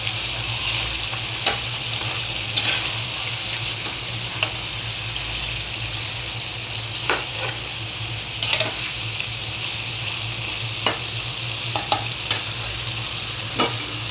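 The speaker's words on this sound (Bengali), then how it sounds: "এখন আমি ম্যারিনেট করে রাখা মাছগুলো ঢেলে দিলাম।" Marinated fish frying in a cooked spice paste keeps up a steady, close sizzle for the whole stretch, with scattered sharp clinks of a spoon against the pan at irregular intervals and no voices.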